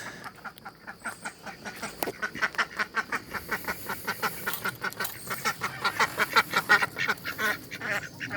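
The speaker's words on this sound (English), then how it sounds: "Pretty sure the ducks want in the garden. That's what they're yelling about," Ducks in a garden quack in a rapid, rhythmic stream of loud, close calls that build in intensity and run almost continuously, with no talk.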